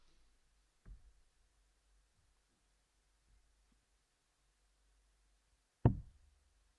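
Darts thudding into a dartboard during a professional darts match: a soft hit near one second, then a sharper, louder impact near six seconds, with quiet between.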